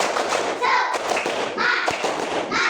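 Classroom of children performing the 'tepuk semangat' clapping routine: loud, crowded bursts of claps and thumps over about three seconds, mixed with young voices chanting along.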